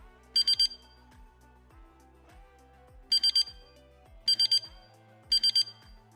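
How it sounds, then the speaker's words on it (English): An Ottobock Kenevo prosthetic knee gives feedback as repeated bursts of three short, high electronic beeps, sounding four times in clear groups over a soft rhythmic background of thuds and tones. "If this is the case, 3 short beeps will sound."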